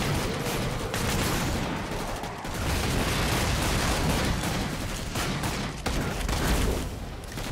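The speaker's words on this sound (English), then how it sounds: "I'm gonna throw a nade." Loud, dense burst of combat noise from Killing Floor 2, with a grenade blast buried among continuous gunfire and booms that last the whole stretch, leaving no clear single explosion.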